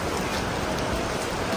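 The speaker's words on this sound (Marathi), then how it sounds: "पाऊस चालू झाला" Rain falls steadily outdoors as a dense, unbroken hiss, loud and continuous, with no voices or thunder.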